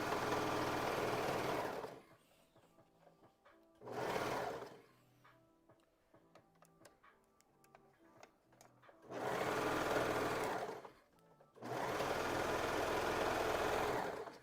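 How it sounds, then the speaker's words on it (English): A serger sews a seam in the round on a Valentine's Day dress, running in loud steady bursts of a few seconds each, separated by quieter pauses filled with small clicks and fabric handling. "Some people have a hard time serging in the round."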